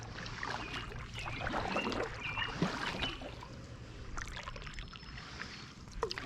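A kayak paddle dips and pulls through calm water, with soft splashes, drips and trickles close by, repeating unevenly over a faint steady background.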